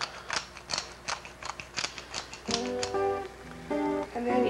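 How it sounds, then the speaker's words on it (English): An Avanti pepper grinder twisting out freshly ground black pepper, a close series of short dry clicking, ratcheting crunches, followed by brief tonal clatter near the end, without speech. "And of course some freshly ground from our Avanti pepper grinder,"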